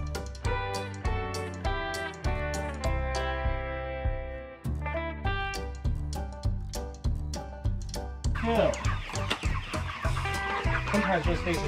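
A flock of about forty chickens being fed, clucking and squawking close by in a busy, overlapping chorus that continues throughout without pause.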